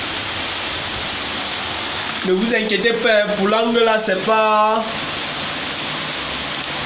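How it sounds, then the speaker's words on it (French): Rain falls outdoors on a plumbing job, a steady broadband hiss of drops that continues under a man's brief spoken remark and carries on alone afterward. "c'est juste les gouttes de pluie là. Donc c'est juste la pluie, donc parce qu'il pleut actuellement"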